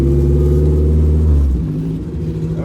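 A car engine idles with a deep steady rumble close by, then the note drops and shifts as the car pulls away for a drive, loud and with no talking.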